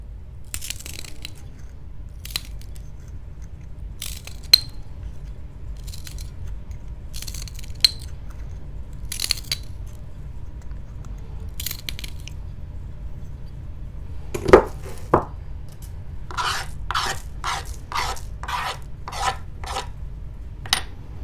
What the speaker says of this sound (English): So I'm going to trim this off just a little bit.